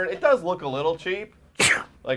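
A single sharp sneeze bursts out at a baseball ballpark between stretches of casual conversation, with talking before and just after it.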